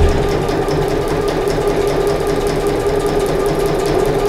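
A sewing machine runs steadily while stitching a pocket onto a small fabric medicine case, its rapid, even needle rhythm loud and close throughout.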